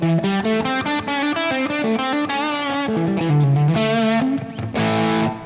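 Electric guitar played through the gain channel of an amp with the drive turned up, distorted sustained notes and a short melodic run, loud and close with no voice.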